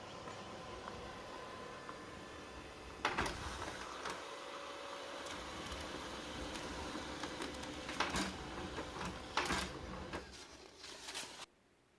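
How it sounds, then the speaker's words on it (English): An HP laser printer runs a test page, its steady mechanical whir broken by sharp clicks and feed clunks near the start, middle and end before stopping abruptly. "Now press and hold the X button until the test page comes out."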